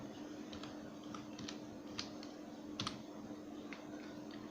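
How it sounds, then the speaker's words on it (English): Password being typed on a computer keyboard: a steady run of light, quick key clicks, close and fairly quiet, with no one talking. "Here type password"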